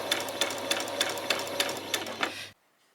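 A domestic sewing machine stitches a back stitch to finish the ends of a peasant top, running in a steady rapid rhythm of needle strokes up close for about two and a half seconds before stopping abruptly into quiet.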